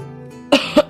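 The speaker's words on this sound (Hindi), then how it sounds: "वो बूढ़ा खांसते हुए कहता है," Three sharp, raspy coughs from an old man come close together after a quiet moment, each short and forceful.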